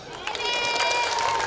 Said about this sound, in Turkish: Bana alkış.